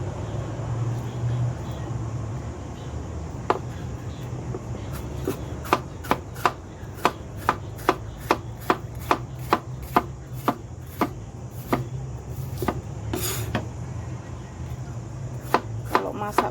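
Bitter gourd sliced with a knife on a cutting board for a stir-fry with dried shrimp, a long run of sharp, evenly spaced chopping taps, close and crisp over a low background hum.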